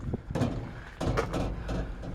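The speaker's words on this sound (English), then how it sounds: "Doors seem to open and close well." Door of a 1957 Chevrolet Big Back Window pickup truck opening and shutting: a short metallic latch click, a brief creak and a soft thud, recorded close by with faint background hum.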